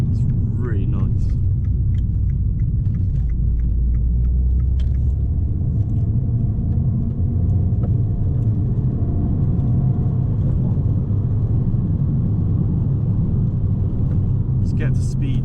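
Abarth 595 from 2016 driving on the road, with a steady low engine rumble that stays strong and continuous throughout, and a voice talking over it.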